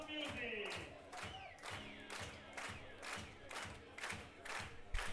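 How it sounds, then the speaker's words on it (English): Fans at a Sweden versus Norway under-19 game cheer in rhythmic chanting bursts with repeated clapping and thumping beats, a lively crowd roar pulsing steadily, with a voice heard over it. "The fans are cheering, dancing, clapping."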